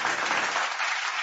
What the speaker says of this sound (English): a round of applause for our speaker